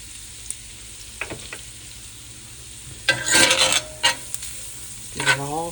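Flour being stirred into hot sausage drippings in a skillet for gravy, a soft sizzle underneath with a burst of loud scraping and spatula clatter midway and a few sharp knocks, close up.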